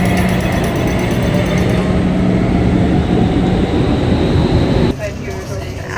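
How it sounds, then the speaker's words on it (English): Passenger train riding through Hamburg makes a loud, steady rumble and rolling rail noise from inside the carriage, continuous throughout with a brief shift in tone near the end. "I'm finally seated comfortably in a train."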